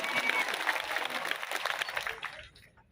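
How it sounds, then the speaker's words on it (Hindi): An audience applauds at the launch event of the Bharat Adivasi Party: dense, steady clapping from a crowd that holds for over two seconds, then tapers off and fades to quiet. "इसलिए एक बार जोरदार तालियां आप सबके लिए।"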